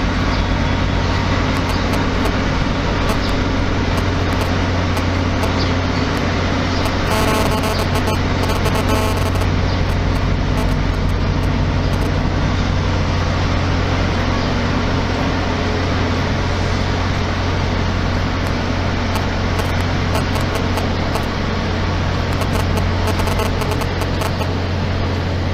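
A large truck idles and rumbles as it reverses slowly into a scanner shed at a border crossing, giving a steady heavy engine drone with a continuous low hum.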